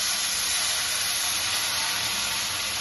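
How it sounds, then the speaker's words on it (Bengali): Water poured into a pan of frying spiced red lentils gives a loud, steady sizzle and hiss that holds for about three seconds, with no voices over it. "এই অবস্থায় আমি জল দিচ্ছি।"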